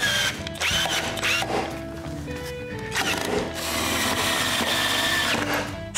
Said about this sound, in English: So I add 4 screws to each block.